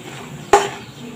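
A lid lifted off a pan of cooking bottle gourd gives a single brief metallic clink with a short ring, close by, in an otherwise quiet kitchen.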